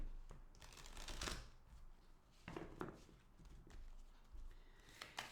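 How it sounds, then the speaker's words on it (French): Tarot cards shuffled by hand in bursts of riffling, papery flicks, quiet and close, with brief pauses between runs and no talking. "J'ai envie de mélanger un peu plus."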